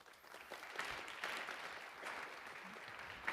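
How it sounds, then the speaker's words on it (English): A conference audience gives a short, faint round of applause, steady scattered clapping heard from a distance in a hall. "round of applause to Searcherix."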